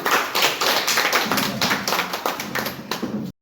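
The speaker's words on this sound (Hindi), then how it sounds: "सर जोरदार ताली" Audience clapping at a human rights association meeting in Jhajha, Bihar, brisk close claps from a small gathering, loud at first and tapering before stopping abruptly.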